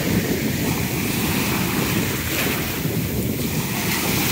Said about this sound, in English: The waves are heavy this morning.